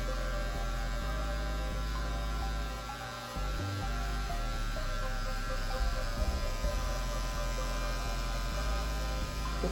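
Steady electric hair clipper buzz with a constant mains-like hum, running close throughout as a fade haircut is polished, with slight dips where the blade shifts against hair.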